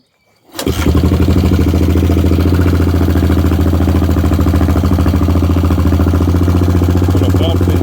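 A car engine starts after a brief silence and settles into a steady, loud, close idle while warming up, with the air idle mixture being adjusted; the even rumble runs unbroken to the end.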